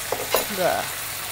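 Cumin powder being stirred into a pigeon meat curry in a pan: a couple of soft scraping strokes over a low sizzle, short and fairly quiet, with no talking.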